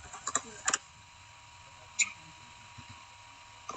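A few scattered keystrokes on a computer keyboard, typing a short command into a command prompt. The clicks are brief, isolated and close, over a quiet steady hum with no speech.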